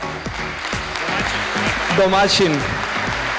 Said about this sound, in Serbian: ja bih vas zamolio za jedan veliki aplauz za Koleta